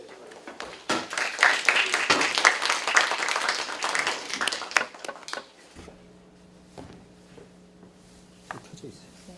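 Audience applause at an academic seminar welcomes a presenter. The crisp, dense clapping lasts about five seconds, then drops away to a quiet room with a low steady hum and a few faint knocks.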